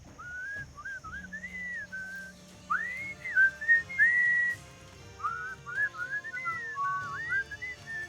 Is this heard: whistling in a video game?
yes